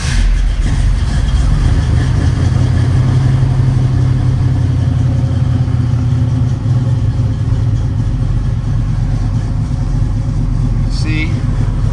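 A 1970 Chevy Nova engine runs on a cold start, settling into a loud, steady, rumbling idle that fills the whole stretch. A person talks over the engine.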